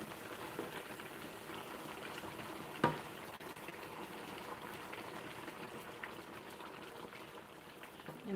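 Okra soup boiling in a pot on a stove, a steady, quiet bubbling and gentle splatter with one sharp knock partway through, no voices.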